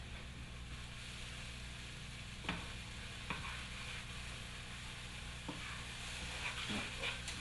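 Pancake batter cooks in a pan on a stovetop over a flame, giving a faint, steady sizzle with a few soft clicks and scrapes and no talking.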